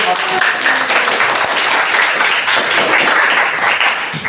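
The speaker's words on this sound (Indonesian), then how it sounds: "Tepuk tangan." Classroom applause from pupils, a dense steady clatter of many hands clapping at close range, running for several seconds.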